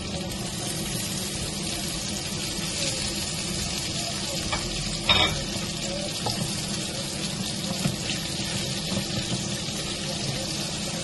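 Onion sizzles steadily in a hot pan while sautéing for ginisang mungo, a continuous close hiss with a brief clink of a utensil partway through.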